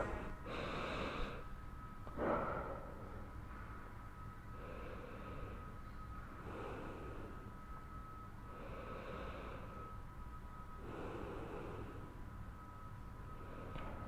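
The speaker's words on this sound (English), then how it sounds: "Take 3 to 4 big deep breaths." Several slow, deep breaths during a side-lying pregnancy workout, each a soft, close inhale or exhale, spaced a few seconds apart over quiet room hum.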